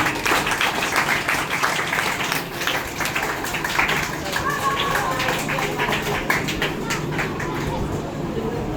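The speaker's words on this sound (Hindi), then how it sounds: "इनके सम्मान में और इनके उत्साह वर्धन में बच्चे ताली बजाएंगे।" Children clapping together at an Independence Day event at a public school, a steady dense patter of many small hands continuing throughout, fairly close, with birds chirping faintly in the background.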